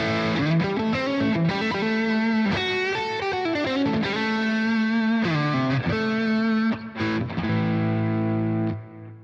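An electric Stratocaster guitar played through a Boss GT-1000 multi-effects patch with a loaded impulse response, giving a driven, distorted tone as a melodic lead phrase with sustained bends that rings out and fades at the end.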